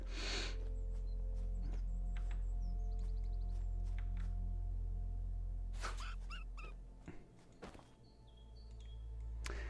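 Dogs in the video game Svarog's Dream give small whimpers, yips and a few barks over a steady low game ambience, with faint bird chirps in the background.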